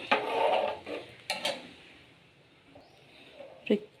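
Salted moong dal being stirred by hand in a pressure cooker pot, with soft scraping and clinks of utensil against metal, a louder burst at the start and scattered knocks after, quiet and close.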